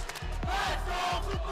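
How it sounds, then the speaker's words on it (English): Esports fans packed into an arena shout back and forth in a loud, rhythmic chant, the massed voices rising and falling in repeated surges that fill the whole space. "Battle of the fans in the crowd right now, going for a shouting match."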